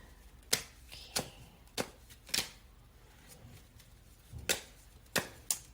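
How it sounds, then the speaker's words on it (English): An oracle card deck, the Island Time Wellness deck, is shuffled close by in a quiet room, with soft, separate riffles and taps arriving in irregular bursts. "I'm now shuffling the Island Time Wellness deck."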